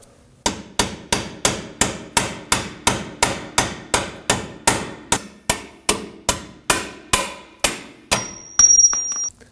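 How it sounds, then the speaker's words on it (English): Sharp metallic hammer strikes ring out in a steady, evenly spaced series of about twenty blows, punching a bolt out of a Honda Pilot rear control arm. Each hit is loud and clanging, and a final cluster of strikes comes near the end. "We're just going to punch this bolt out."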